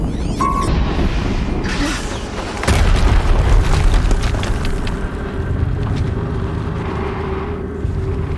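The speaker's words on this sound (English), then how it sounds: "Explosion." A deep explosion booms in the video game Horizon Zero Dawn, a sharp blast followed by a heavy rumbling roar and scattered debris clatter that slowly settles into a low sustained drone.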